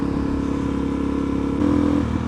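A Suzuki DRZ400SM dual-sport motorcycle engine runs steadily nearby, its tone shifting and rising slightly partway through as the bike rides on.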